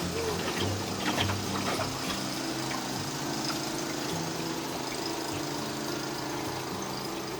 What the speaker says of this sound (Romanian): Pompele, ce trag apă.